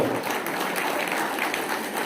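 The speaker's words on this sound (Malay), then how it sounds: "Mari kita beri tepuk tangan kepada Jalumin Bayogo" Guests at a Borneo MA Smart Vending company dinner applaud a speaker, a close, steady patter of many hands clapping that stays level for about two seconds.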